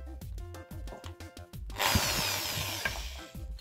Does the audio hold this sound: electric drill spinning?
yes